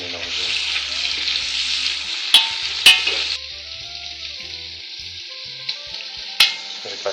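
Chopped onion, leek and bell pepper sizzle steadily in hot oil in a pan. A few sharp utensil knocks mark the stirring, and no one talks.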